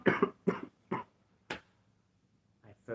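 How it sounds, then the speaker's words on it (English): Several sharp, close coughs in a short irregular series, followed by a brief vocal sound near the end. "freaking hate my cough."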